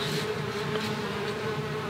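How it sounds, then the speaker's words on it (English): Bees from Japan buzzing steadily inside a shed, a continuous close insect drone with a faint hum underneath and no voices. "But these bees now in the shed, these are from Japan."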